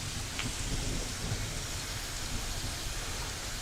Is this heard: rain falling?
yes